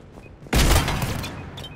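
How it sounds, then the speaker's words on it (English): Sudden burst of gunfire in the Mass Effect 3 video game, a loud booming volley of shots that erupts after a quiet moment and rumbles on, tapering off near the end. "Intruders, open fire!"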